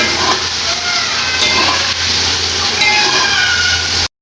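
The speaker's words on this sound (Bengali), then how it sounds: "তো মশলার সাথে আমি এগুলি কষে নিতেছি" Spices and pieces of taro root being stir-fried in a pan, a loud continuous sizzle with scraping and stirring, steady throughout with faint background voice.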